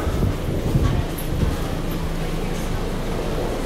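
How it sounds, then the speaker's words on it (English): A New York subway R train at a station on 8th Avenue rumbles and clatters nearby in a low, rolling mix, with a brief louder burst early on, under light background noise. "That's my train."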